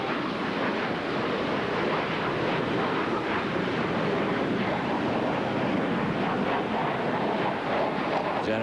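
Aircraft fly over in a missing man formation at a memorial, giving a broad, loud, continuous rushing roar with wind noise across the microphone.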